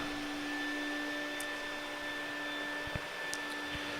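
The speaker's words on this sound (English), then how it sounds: "If you can hear that vacuum," A vacuum cleaner runs steadily in the background, giving a constant even hum and hiss with no breaks and a few faint clicks.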